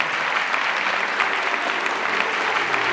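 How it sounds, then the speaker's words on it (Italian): A dense, continuous round of applause from the crowd at the Miss Sicilia pageant in Ispica, steady and full throughout, with no speech over it. "Facciamo un applauso."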